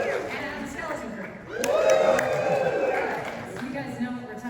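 Audience at a WonderCon Star Wars panel for Skeleton Crew and Obi-Wan Kenobi bursting into cheers and whoops that swell midway and hold steady, mixed with crowd chatter and a voice speaking over it.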